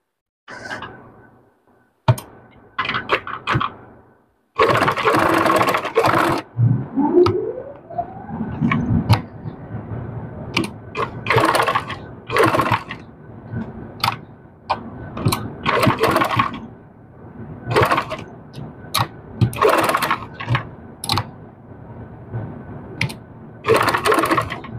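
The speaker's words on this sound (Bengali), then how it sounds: "একদম কিনারের কাছে উপর দিয়ে একটা সেলাই দিয়ে নেব" A sewing machine runs in bursts of fast mechanical whirring as it stitches along the edge of a garment's neckline, close and clear, with short pauses between runs.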